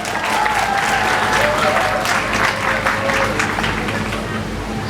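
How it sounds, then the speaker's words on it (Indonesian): A large audience at a graduation thanksgiving ceremony for Islamic boarding school students applauds in a loud, sustained wash of clapping, with a few faint voices mixed in. "Tepuk tangan dulu semuanya."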